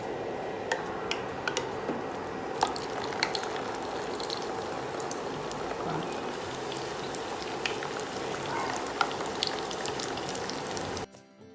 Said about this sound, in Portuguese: E vou começar a fritar já o meu quibinho